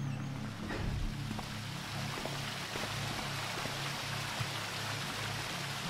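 A waterfall in the Thief fan mission Cardinals' Sins gives a steady, close rushing and splashing wash with a low, constant hum beneath it, with no voices over it.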